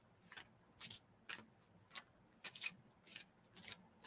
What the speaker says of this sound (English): I don't shuffle cards like they're playing cards. I shuffle them like this.